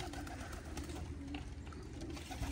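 Racing pigeons cooing during a release at a Capistrano Classic race loft, a steady murmur of birds amid continuous outdoor background noise, with no clear talk.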